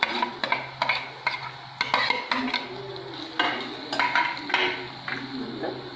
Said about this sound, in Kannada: ಈಗ ಹಸಿಮೆಣಸಿನ್ಕಾಯಿ ಹಾಕ್ತಾ ಇದ್ದೀನಿ.